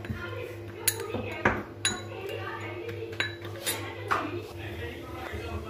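A spoon clinks and scrapes against a bowl while mixing chaat masala with red chili powder for mathri, a series of irregular metallic taps and chinks at close range, with soft speech in the background.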